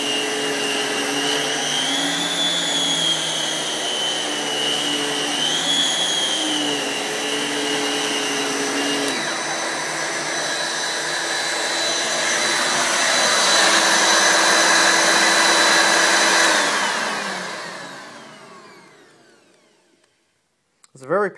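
A Fairfax SCPD7 vacuum cleaner runs loud and close with a steady whining drone that shifts in pitch, swells for a while, then winds down to silence before a brief noise at the end.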